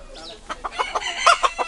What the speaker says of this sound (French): Encore un coq.